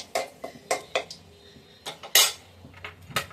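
Metal spatula scraping and clinking against a wok while stirring a tempering of chilli, cumin and bay leaf in oil for dal, a series of sharp uneven clatters and taps, close and alone with no talk.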